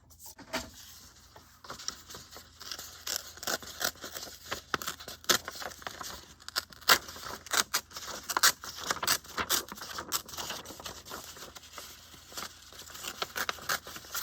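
Scissors snip through paper labels for a junk journal in a run of quick, crisp cuts, close and fairly faint, with small rustles of paper between snips.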